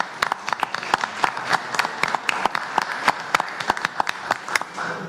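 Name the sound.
audience applause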